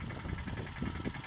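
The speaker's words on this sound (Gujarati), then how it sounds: "ઊભું રાખો ટ્રેક્ટર." A farm tractor engine idles close by, giving a steady, rumbling, slightly knocking drone throughout with no talk over it.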